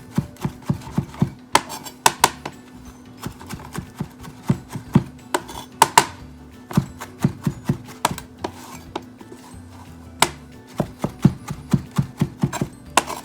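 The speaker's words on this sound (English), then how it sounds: "We're going to get that diced up." A knife dicing a small amount of cilantro for guacamole on a cutting board, with quick clusters of crisp, close chops and short pauses between runs.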